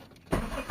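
A Toyota GLi big body car's engine cranks and catches about a third of a second in, starting abruptly from near quiet. It immediately settles into a loud, close, rough running rumble.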